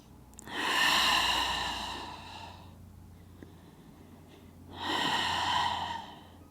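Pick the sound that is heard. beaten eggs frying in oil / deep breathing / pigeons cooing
deep breathing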